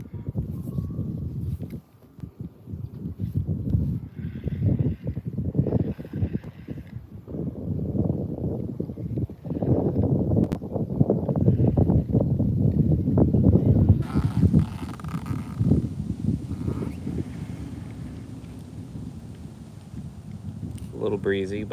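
Outdoor breeze rushing over a microphone beside a backyard pond during bass fishing, steady buffeting wind noise throughout with someone speaking over it at times.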